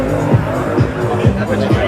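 A drift car doing doughnuts roars loudly with tyres squealing continuously, the engine note surging in a steady rhythm roughly twice a second, close and dominant.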